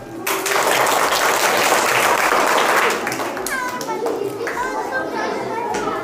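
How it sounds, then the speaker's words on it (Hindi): A group of children clapping and chattering during a storytelling session, a dense burst of claps that eases into lively kids' voices and talk. "हाँ, ताली बजाओ।"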